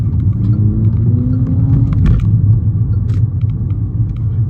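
A learner car pulls away from a stop at a roundabout during a driving lesson, its engine rumbling low and steady from inside the cabin, with brief indicator-like ticks and no talking.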